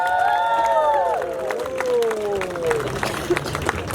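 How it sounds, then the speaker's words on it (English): A crowd on a Florida Keys road trip toward Key West claps and cheers for a group of performers, steady applause and whoops rising under overlapping voices and a few sweeping tonal calls. "clap for these guys."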